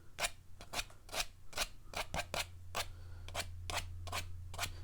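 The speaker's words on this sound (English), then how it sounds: "I could take the edge of a credit card, scrape some grasses." The edge of a credit card scraping grass strokes into damp watercolor paint on paper, a quiet run of short rasping scrapes in an uneven rhythm, heard close up with no talking.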